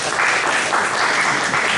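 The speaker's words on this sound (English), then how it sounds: "Give him a round of applause." Room full of people at an investors association monthly meeting breaking into applause, a loud, even wash of clapping with no voices over it.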